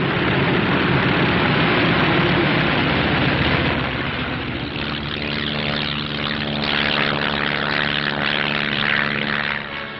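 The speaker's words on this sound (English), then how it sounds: "a first flight takes off in the sunrise, others following at regular intervals" A military propeller aircraft takes off from the Adak airfield in the Aleutians, its loud engine drone steady and continuous, shifting in tone partway through as the aircraft passes.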